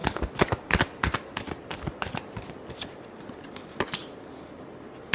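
Tarot cards are shuffled by hand in a quick run of crisp flicks and riffling snaps, close and dry, loudest at first and then thinning into scattered individual taps before a final snap.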